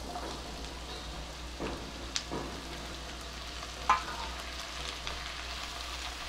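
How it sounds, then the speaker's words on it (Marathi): Tomatoes and onion sautéing in a pan over high heat for pizza sauce, giving a soft, steady sizzle up close with a few faint stirring clicks and scrapes. "आणि मी गॅस मोठा केलाय आणि आता हे छान परतून घेऊ लवकर शिजण्यासाठी"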